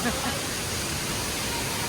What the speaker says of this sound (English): ये देखो कैसे पानी आ रहा है सब जगह से। This is the real spring water.